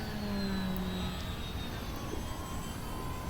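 A ParkZone Albatros D.Va model airplane, a painted WWI-style biplane with added flying wires, flies overhead with a steady, thin electric motor whine and faint shifting tones over constant outdoor wind noise.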